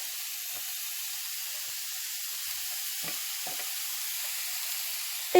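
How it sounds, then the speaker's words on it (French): Vegetables are laid on a preheated All-Clad grill and give a soft, steady sizzle and hiss, with a few faint clicks and taps over the constant frying noise. "va venir déposer donc nos petits légumes dans notre appareil que j'ai fait préchauffer au préalable"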